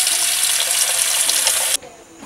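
Tap water pours hard into a big pot for nearly two seconds, loud and close with a steady gush, then cuts off abruptly and leaves a faint room hush.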